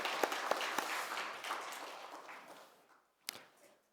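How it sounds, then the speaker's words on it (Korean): A congregation applauds during a Korean Sunday worship service. The clapping starts full, gradually fades away, and ends with one sharp, isolated clap after a short lull. "크게 영광의 박수를 돌리겠습니다."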